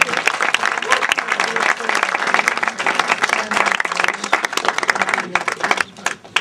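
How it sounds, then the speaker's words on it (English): A film awards audience claps loudly and continuously for several seconds in a dense crowd round, tapering slightly at the very end. "So if we could have a round of applause for them, that would be much appreciated."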